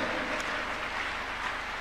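A church congregation at a Tuesday miracle service claps continuously in a dense, even patter of many hands, with no break in the sound.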